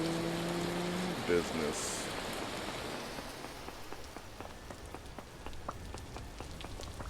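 Steady rain patters on a surface in a blocky survival game world after a spell of hail, a soft continuous hiss with scattered drop ticks, while a person talks briefly over it near the start.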